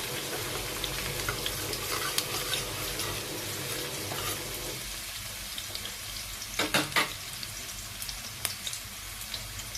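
Onion and garlic sautéing in a pan, a soft continuous sizzle at low level with occasional stirring clatter and scraping bursts toward the end.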